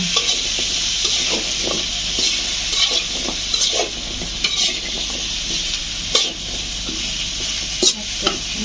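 Vegetables, aubergine among them, go into spices already fried down in a pan for a dried-fish curry, and a loud steady sizzle runs throughout while a spatula scrapes and clicks against the pan in irregular strokes.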